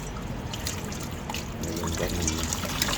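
Water poured over ingredients to soak them for sinigang, a close splashing trickle that grows fuller toward the end, alone without speech.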